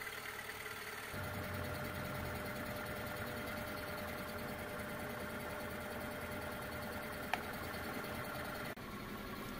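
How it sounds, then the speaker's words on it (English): Components from a gas generator are driven at low RPM during a power test, giving a faint, continuous mechanical hum and whir with a steady drone throughout and one brief click near the end. "Here are a couple of tests that show that this generator does not produce power when it's being rotated under a certain RPM."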